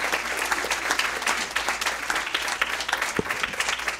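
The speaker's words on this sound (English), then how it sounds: "let's give them another big round of applause" Audience applause at a school district board meeting honoring an elementary school, steady dense clapping from a roomful of people, fairly loud and continuous throughout.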